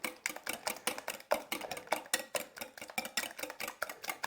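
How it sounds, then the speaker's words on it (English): A whisk beats egg and wet ingredients for banana muffins in a bowl, a fast, steady rhythm of sharp metallic clicks and taps, close and clear with no talking. "And then we're going to whisk this all up."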